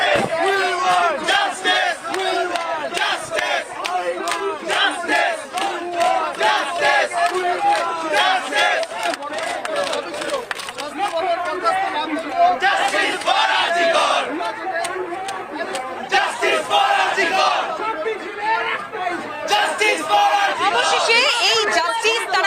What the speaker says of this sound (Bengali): ইতিমধ্যে ইতিমধ্যে স্লোগান শাউটিং হচ্ছে